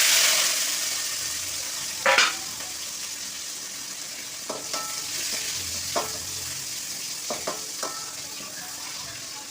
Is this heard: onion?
yes